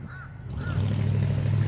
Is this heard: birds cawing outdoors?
yes